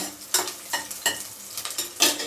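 Slit green chillies frying for fried rice, a bright crackling sizzle with repeated bursts of spluttering and stirring, close and loud without speech.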